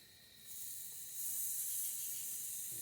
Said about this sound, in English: Get her a little sear on that bad boy.